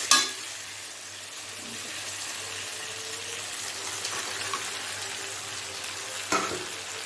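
Potato, onion and spice masala mixed with fried papad, stir-fried for a crab curry. It makes a quiet, continuous sizzle with soft scraping stirs and a couple of louder knocks at the start and near the end.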